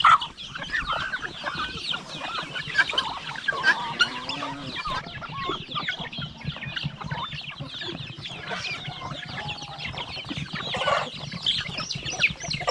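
Turkeys and other farm fowl call continuously in a busy chorus of overlapping clucks, gobbles and crowing, fairly close and steady throughout without any talk.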